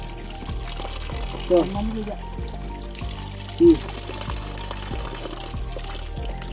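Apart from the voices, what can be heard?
water pouring from spring tap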